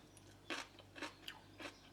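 Close, crisp crunching bites, four of them in a loose rhythm, from firm homemade sauerkraut being chewed.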